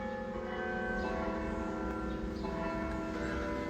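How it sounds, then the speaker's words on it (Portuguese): Church bells ring steadily from a nearby church, a dense sustained wash of overlapping tolls at moderate level with no pauses, heard alone without talk. "Quem vê esses sinos aqui pensa que eu estou na igreja."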